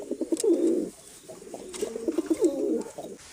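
Pigeons in a home loft with local and crossbred birds coo in two rolling, throaty bursts, close and fairly loud, separated by a short pause.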